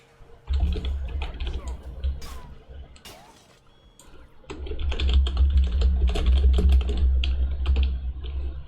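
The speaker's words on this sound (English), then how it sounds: "Wait, I can't see what I'm typing." Rapid computer keyboard typing clatters continuously and close up through most of the stretch, pausing briefly in the middle, while someone plays Deep Rock Galactic.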